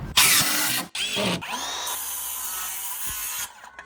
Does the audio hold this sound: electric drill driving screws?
yes